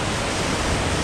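Waterfall on Vancouver Island heard from right in its spray path: a dense, unbroken roar of falling water, loud and close, with no voices.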